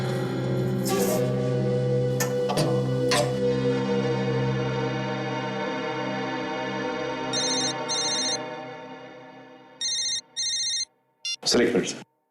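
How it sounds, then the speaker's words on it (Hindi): A telephone rings in short repeated bursts, two separate rounds of trilling rings, following a stretch of dramatic music in a TV crime drama scene. "बार बार क्यों फोन आ रहे हैं इसके?"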